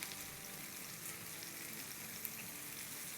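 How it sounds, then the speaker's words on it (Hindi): Bay leaves, shah jeera and star anise sauté in hot oil for a seekh kabab biryani, giving a faint, steady sizzle with a fine crackle throughout and no voices. "चलो इसको सौटे करते हैं"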